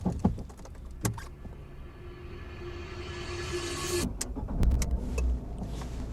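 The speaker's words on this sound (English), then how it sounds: "Okay, so car still turns on, idles nice, moves" A car engine after an ECU flash: clicks and a short start, then a steady low idle hum that rises slightly before a few clunks and knocks, close by with no talking.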